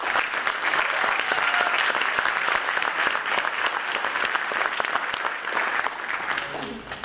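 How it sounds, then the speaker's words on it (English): Sustained, dense applause from a large audience at a high school scholarship and awards night, loud and even for the full stretch before easing slightly at the end. "Please join me in a round of applause to recognize the support of the families of our students with us tonight."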